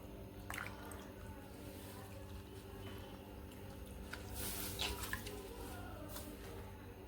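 A cotton cloth is soaked in water in a home kitchen while dhapate dough waits; faint drips and soft squishing sounds come through quietly over low background noise.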